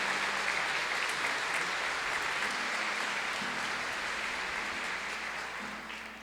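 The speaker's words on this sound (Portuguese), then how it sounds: "Vamos acolhê-lo também com uma salva de palmas." A church congregation applauds a newly ordained priest, broad sustained clapping from many hands filling the space, holding steady and then tapering slightly at the end with no speech over it.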